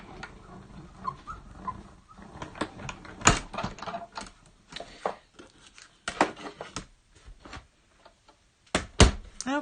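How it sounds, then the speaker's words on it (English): A die cut and emboss machine cranked by hand while cutting stamp borders, irregular ratcheting clicks and clacks in uneven bursts, close and fairly loud, with short pauses between turns and no talking. "bring back the die cut and emboss machine"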